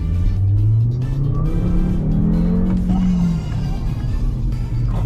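An Audi RS Q3 engine revving as the car pulls away in a loud, close acceleration, its pitch sweeping upward and then easing off while the engine keeps rumbling.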